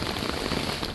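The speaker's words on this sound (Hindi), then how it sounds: "और फिर ऊपर से ये भयंकर मूसलाधार बारिश।" Torrential monsoon rain pours steadily in Haridwar beside a flooded lake and waterlogged parking areas, a dense, continuous hiss of heavy drops hitting surfaces, loud and unbroken throughout with no voices.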